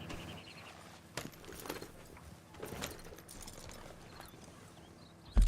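Rhythmic hoof clip-clops of a horse at a walk in the video game Red Dead Redemption 2, moderately close, with faint jingling tack and a sharp thump at the end.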